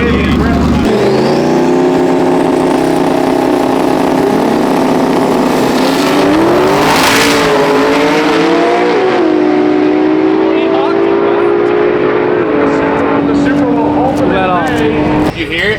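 A 1300 whp drag race car roars loudly down the strip, its engine pitch climbing through gears with a sustained, heavy drone that swells and shifts as it pulls away.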